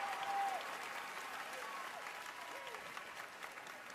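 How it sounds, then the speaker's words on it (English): Sustained applause from a crowd at the NFL Honors broadcast, a steady even wash of clapping throughout, with a brief voice near the start. "Give him a round of applause again."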